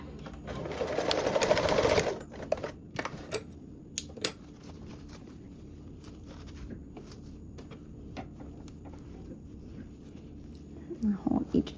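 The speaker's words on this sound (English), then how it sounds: "I'm gonna sew this to where the elastic is just flushed with our fabric. And then sew back and forth a few times to secure it in place." A sewing machine runs in a fast, dense burst for about two seconds as it stitches elastic flush to duffle-bag fabric, followed by quieter clicks and handling noises.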